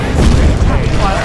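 A Gyrocopter missile explodes in a Dota 2 match: a loud, booming blast with a deep low-end rumble fills the moment, with a commentator's voice present.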